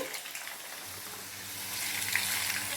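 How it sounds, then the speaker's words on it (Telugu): Grated potato dropped into hot oil in a pan, giving a continuous hissing fry that swells slightly louder toward the end, with no one talking. "నూనె వేడెక్కింది ఈ ఆరిపోయిన ఈ తురుముని ఇలా ఆయిల్లో వేసి"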